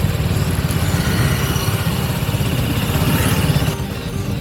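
TVS Apache RR310 motorcycle engine running steadily in fourth gear, a loud close low droning rumble that holds through most of the stretch, then drops slightly near the end, with no talking.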